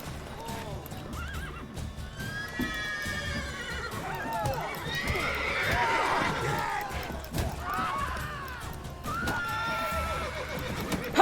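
Horses whinny and neigh repeatedly in The Witcher 3, loud and close, over steady clip-clopping hooves and busy game background sounds, with some voices mixed in.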